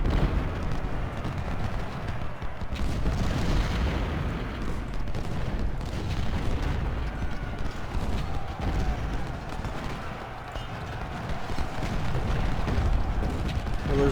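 Cannon and artillery fire rumble through a Civil War battle at Shiloh in Ultimate General: Civil War, a continuous heavy roar of booming shots and distant gunfire with no clear breaks.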